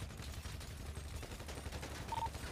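Gunfire in a GTA roleplay session on a NoPixel server rattles in continuous rapid bursts, dense and steady throughout with a heavy low rumble.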